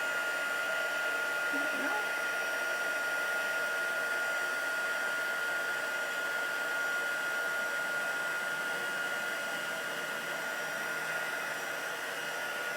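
A heat tool blows steadily to melt white embossing powder on a stamped card, making a continuous, even whir with a faint high whine that runs unbroken for the whole stretch.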